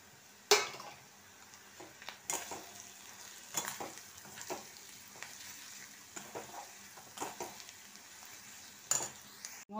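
Ground coriander, cumin and chilli powder frying with ginger and onion in a pan: a quiet, continuous sizzle broken by sharp clinks and scrapes of a spoon stirring against metal.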